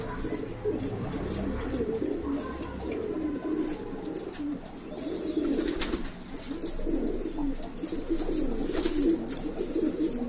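Several pigeons coo steadily and close by, their low, throaty calls overlapping continuously with faint background rustle.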